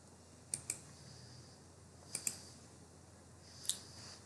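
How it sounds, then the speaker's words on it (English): Mouse clicks at a computer while working in SharePoint: three pairs of sharp, light clicks spaced about every second and a half, faint and close, over a quiet room with no talking. "click on employee list"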